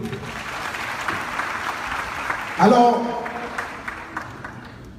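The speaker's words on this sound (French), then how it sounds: "Je vous demande de bien vouloir vous applaudir," An audience at a live competition show claps in a steady, full round of applause that swells briefly midway, while a presenter's voice speaks over it.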